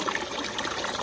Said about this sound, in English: this water hose making me mad